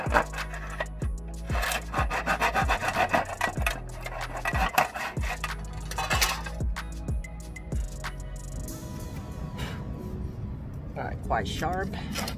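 Hand-sawing an aluminum window screen frame down to size, a steady run of rhythmic, close strokes for about nine seconds that then give way to quieter handling and scraping noises.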